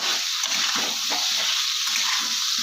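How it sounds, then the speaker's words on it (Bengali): Water pours in a steady gush into a cooking pot of fried spices and vegetables for a homestyle cauliflower and potato curry, a continuous close rushing splash with no talk. "জল ঢেলে দেবো"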